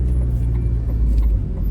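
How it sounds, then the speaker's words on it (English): Steady low road rumble of traffic heard from inside a car at a busy morning junction, a continuous muffled engine and tyre drone with no talk. "Where has all this traffic come from?"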